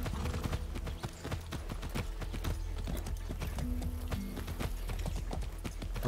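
Horse hooves clip-clopping steadily in Far Cry 6, a dense run of near, sharp hoofbeats continuing throughout over a constant low background rumble, with no talking.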